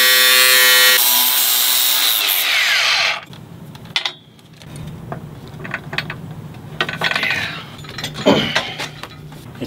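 Angle grinder used on foresail hardware aboard a sailboat, a loud high whine that spins down after about three seconds, followed by quieter clanks, scrapes and handling sounds.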